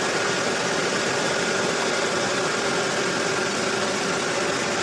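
2006 Ford F150 engine idling with a steady, even hum and faint vibration, heard close and continuous with no talking.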